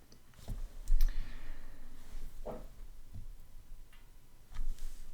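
A mouse click on a Connect button on a computer: a few sharp, separate clicks with quiet gaps, close by and faint, with no talking.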